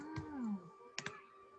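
Two quick, sharp mouse clicks in close succession, preceded by a brief vocal sound, with a steady hum in the background.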